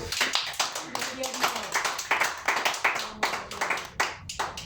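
A church congregation claps together during a Spanish-language sermon, a loud, rhythmic burst of hand claps in a steady beat lasting several seconds, with voices faintly mixed in.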